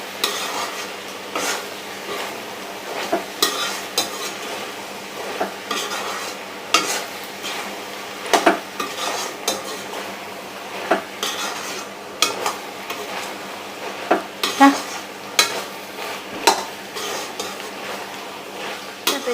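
Taro and chickpeas fry with turmeric in a pan, a spatula stirring and scraping in repeated close, clattering strokes over a soft continuous sizzle, with no talking.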